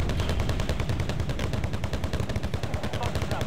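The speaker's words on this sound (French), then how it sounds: "Donc en gros, c'est 8 mitrailleuses de calibre 50 qui tirent en même temps." Quad .50 caliber machine guns fire in a rapid, continuous stream of loud, dense bursts in the video game Wargame Red Dragon, with the rattling volleys filling the whole stretch.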